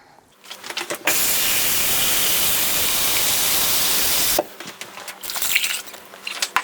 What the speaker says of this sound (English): So I'm going to put equal amounts of water in here.